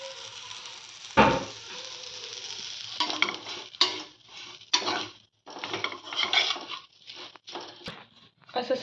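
Chopped onion and grated coconut fry in a pan, the hiss of frying running under repeated close spatula stirs and scrapes that come in quick irregular bursts, with no one speaking.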